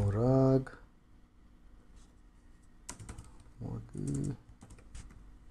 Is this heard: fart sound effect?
no